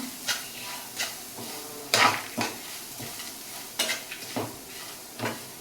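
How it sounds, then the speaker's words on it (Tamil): Grated coconut roasting in a pan for a wedding-style sambar, with repeated scraping stirs at an uneven rhythm over a light dry sizzle, close and clear with no talk. "இப்போ இதையும் சேர்த்து வறுத்துடலாம்"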